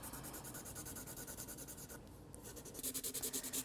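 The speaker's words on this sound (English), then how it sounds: "when we scribble on the back, use a number two pencil." A number two pencil scribbles rapidly on the back of a paper pattern, producing rhythmic, close, scratchy back-and-forth strokes with a brief pause before the strokes resume more forcefully.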